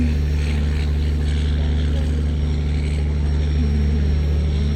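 A boat crossing a river near low bridges, its engine a steady, close, loud drone with a strong low hum that holds without a break.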